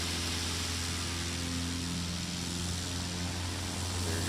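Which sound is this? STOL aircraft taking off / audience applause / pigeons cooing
STOL aircraft taking off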